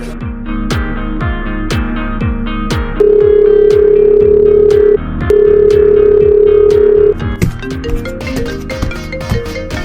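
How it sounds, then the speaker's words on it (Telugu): A phone line rings with two long, loud electronic tones, set against a rhythmic music track that continues after the ringing stops. "మన పవన్ గారికి ఫోన్ చేయి. కలుపుతున్నాను."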